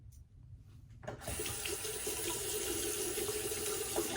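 Tap water running into a sink for rinsing after a shave, starting after a second of near silence and then flowing steadily, close and fairly quiet with no talking.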